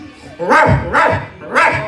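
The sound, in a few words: voice imitating a dog barking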